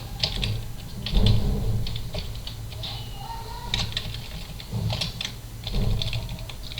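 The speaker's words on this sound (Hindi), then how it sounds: "तो HPing 3 टाइपिंग कर रहा" Computer keyboard typing of a Kali Linux hping3 command arrives in close, irregular bursts of clicks, fairly loud and with no talk over it.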